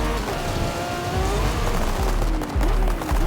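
A Lamborghini Revuelto driven on sand in Forza Horizon 5, its engine droning and sweeping up and down in pitch with bursts of tyre noise, loud and close throughout.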